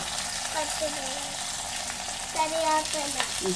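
Shallots and dried red chillies fry in hot oil with a continuous crackling sizzle, broken by occasional light stirring scrapes up close.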